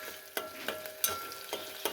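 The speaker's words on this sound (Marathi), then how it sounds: "गॅसची फ्लेम ही लो फ्लेमवर तळायचं" Creamy pasta frying in a pan over a low gas flame, soft sizzle with a handful of spaced spatula scrapes and taps, quiet and close, no voices.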